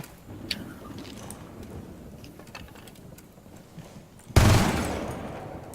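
Gunfire in the video game Rainbow Six Siege: scattered faint shots and crackle, then one loud close blast with a long decaying tail near the end.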